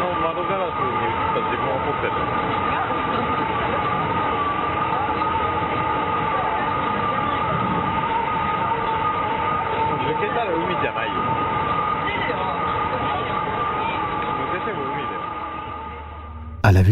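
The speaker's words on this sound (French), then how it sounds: "le train va ensuite repartir pour continuer son trajet en direction de la gare suivante" A train pulls away from a station, a steady loud rumble with a sustained tonal whine holding for many seconds before fading near the end.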